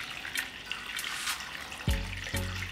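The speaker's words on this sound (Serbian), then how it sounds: "I sipat ću vodu" Water is poured into a pot holding jars of seasoned meat, a soft steady splashing trickle that shifts into a deeper gurgling fill near the end, quiet and close.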